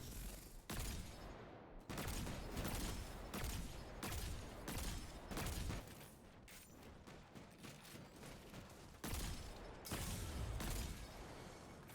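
Rapid loud sniper shots from the Golden Gun super in Destiny 2, a series of sharp heavy blasts in quick succession, each with a ringing decay, alone without talk.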